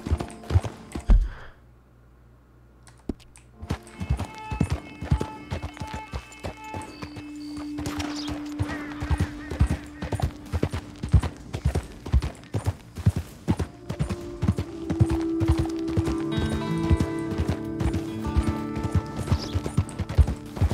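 Horse hooves clip-clop in a steady walking rhythm in Red Dead Redemption 2, loud and close, with game music and tones behind them. A brief quiet gap comes near the start before the hoofbeats resume.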